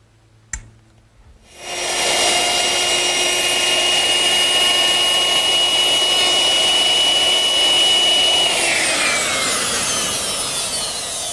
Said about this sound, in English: to round that over I used a 1/2-inch radius bit